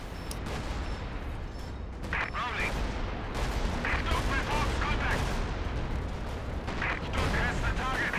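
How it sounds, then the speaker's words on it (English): Dense artillery fire in the World War II strategy game Company of Heroes 2 booms and crackles without pause, with volleys of gunfire layered over a rumbling barrage and voices talking underneath. "Artillery."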